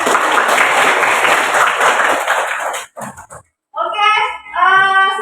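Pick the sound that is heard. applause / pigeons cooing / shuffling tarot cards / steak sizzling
applause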